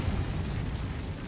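A fire spell cast in Hogwarts Legacy, heard as a dense, roaring burst of low rumbling flame that holds steady and close for just over a second, with no voices.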